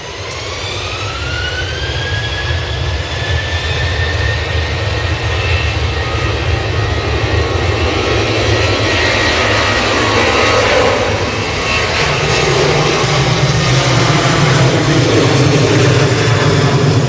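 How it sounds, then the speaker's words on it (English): A Loganair airliner bound for Inverness roars loudly and steadily on its take-off run at Manchester Airport, a sustained close jet-engine rumble with a rising whine that holds for the whole stretch, with no voices. "The Logan Air was off to Inverness"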